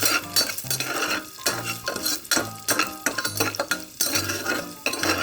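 Cumin, urad dal and chana dal roasting in a pan for tomato bhaat, with a spoon repeatedly scraping and stirring against the metal in steady rhythmic strokes, close and loud, over a light sizzle.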